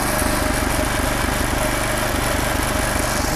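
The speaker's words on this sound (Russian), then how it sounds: "Моторчик завелся." The engine of a Kaskad walk-behind tractor runs steadily just after being pull-started, a loud, close, continuous chugging rumble with an even rhythm and no voices over it.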